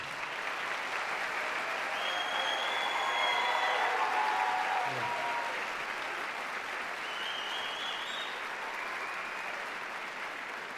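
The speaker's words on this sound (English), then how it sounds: "Let's have a big additional round of applause for all our new P1s." Sustained applause from a large crowd at a white coat ceremony, steady and loud throughout with a faint cheer or whistle rising above the clapping.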